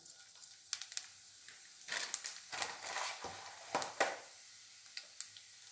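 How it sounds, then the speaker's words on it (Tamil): Fennel seeds crackling in hot oil left over in the pan, with a few louder bursts of sizzle and crackle over a soft background hiss, fairly quiet and close. "இப்போ அதே எண்ணெயில் சோம்பு தாளிச்சுக்குவோம்"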